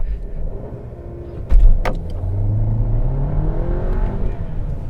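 A 2022 Skoda Octavia 2.0 TSI 190 hp 4x4 engine idles, then rises in a sharp burst and holds at a raised, steady revving drone for launch control, close by.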